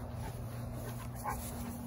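A dog with hip dysplasia whimpers and gives faint yips, soft and close, over a low steady background hum.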